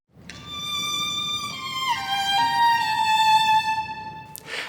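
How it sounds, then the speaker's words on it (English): A single sustained high violin note, bowed steadily with a slight pitch dip partway through, ringing clearly with no talking. "So if I ask Julia to play her violin, which is the smallest of our string instruments"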